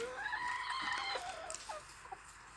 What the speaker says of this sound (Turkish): komşumuzun tavuk çiftliğindeyiz